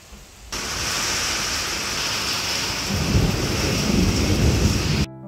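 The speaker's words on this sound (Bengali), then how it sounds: "বাইরে হচ্ছে ঝমঝমিয়ে বৃষ্টি" Heavy rain pours steadily outside, a dense continuous roar that swells louder toward the end with low rumbling thunder, with no voices.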